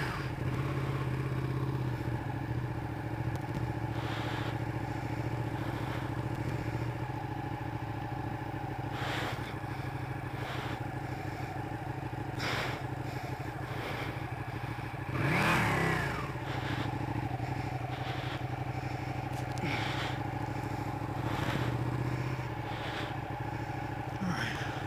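A Ducati 959 Panigale motorcycle is ridden with a steady engine drone, rising and falling through several revs and gear changes, with wind rush and clatter mixed in.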